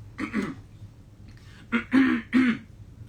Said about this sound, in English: I had to clear my throat a bit there